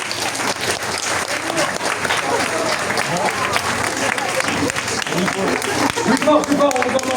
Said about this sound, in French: on peut déjà les applaudir très très fort